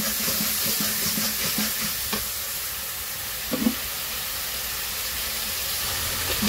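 Spice paste frying and being stirred with a little water in a village kitchen, a soft steady sizzle with occasional spoon scrapes and small pops, fairly quiet and without speech.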